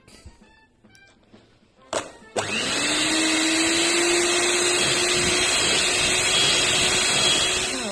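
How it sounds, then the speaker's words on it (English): An electric mixer switches on after a few handling knocks and runs loud and steady, whirring as it mixes butter into flour to form breadcrumbs for a banana and apricot loaf cake. "I'm just going to use the electric mixer."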